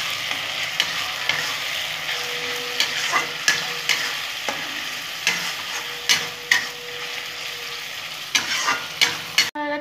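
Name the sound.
sautéing chicken curry masala with Kashmiri chili powder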